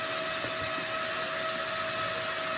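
A blower fan inside a homemade battery charger built with doubled capacitors runs steadily, giving a constant, fairly loud whoosh with a faint steady hum and no pauses.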